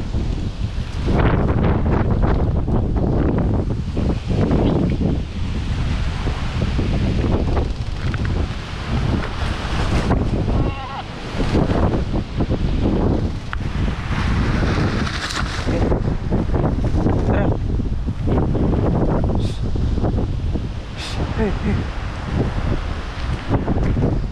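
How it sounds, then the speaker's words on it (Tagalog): Strong typhoon wind on a farm roaring and buffeting the microphone in continuous heavy gusts, with rustling and a brief lull midway; no voices are heard. "Grabe yung hangin."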